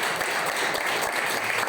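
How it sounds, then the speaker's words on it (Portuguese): A church congregation applauding during a Saturday Purim service, a dense steady patter of many hands clapping together at moderate distance, with no break in the short stretch. "Você pode dar uma salva de palmas ao Senhor"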